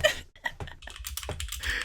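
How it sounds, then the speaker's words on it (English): Rapid clacky keystrokes rattle on a computer keyboard, loud and close, in uneven bursts as a Pokémon team builder is filled in, with a brief cough-like sound among them. "I'm typing Mime Jr. into my team builder."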